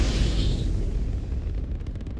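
A weapon firing in Starfield, heard as a heavy, booming blast with a rumbling low end and a hissing tail that fades across a couple of seconds, followed by faint rapid ticks.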